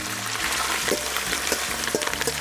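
Chicken hearts and gizzards fry in sunflower oil for a chicken stuffing, with a continuous crackling sizzle and a few light stirring clatters, close and without talk.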